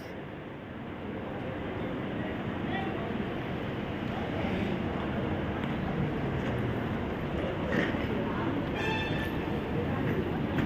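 Busy railway station ambience at Banaras (Varanasi) at night, a steady broad rumble of a train and crowd noise with faint announcements or horns, people talking throughout.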